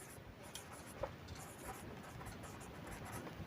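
A pen scratches out an answer on paper, soft close continuous scribbling with a small tap near the start, faint against a quiet room and no talking.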